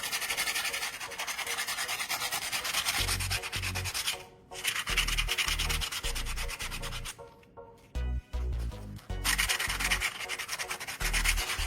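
Abrasive sanding on a shoe to strip old glue and roughen the surface, steady close scraping strokes with a few short pauses and low thumps under the grinding.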